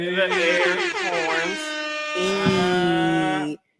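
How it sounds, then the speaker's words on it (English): An air horn sound effect blares loud and close in two long honking blasts, the first warbling and stuttering, a short gap, then a steadier sustained blast that cuts off abruptly. "What the air horn?"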